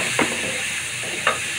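Shrimp frying with okra in a pan give a steady close sizzle, with two brief stirring scrapes about a second apart.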